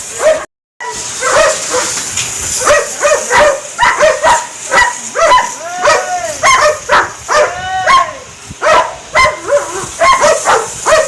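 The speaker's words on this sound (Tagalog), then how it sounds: "German Shepherd yata yan." A large German Shepherd barks repeatedly in uneven bursts, loud and close, with some whimpering yips between barks.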